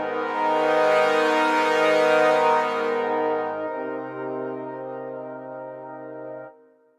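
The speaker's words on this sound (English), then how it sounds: "As an orchestral brass section swells, it not only gets louder, it gets brighter" Yamaha Montage synthesizer playing an orchestral brass section patch, sustained chord swelling loud and bright, then thinning to lower held notes before fading out at the end.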